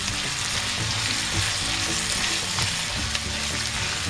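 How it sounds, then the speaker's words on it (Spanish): Garlic, onion and peppers sauté in a pan with a dense, continuous sizzle, close and steady, broken by small stirring clicks and scrapes, with no voices. "hasta que se sofría"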